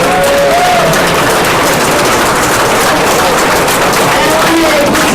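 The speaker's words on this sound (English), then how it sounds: "feel free to keep clapping as we thank some special people" Dense, loud applause from a large audience at the Special Olympics USA Games, a steady wash of clapping that fills the whole clip, with cheering voices mixed in.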